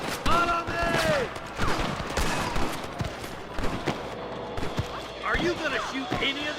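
Gunfire in the Red Dead Redemption video game, with scattered shots in a Western shootout against cattle rustlers, popping amid music and other game sounds while voices talk over them throughout.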